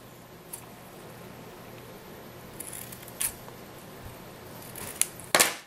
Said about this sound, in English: I'm just going to cut my edges to finish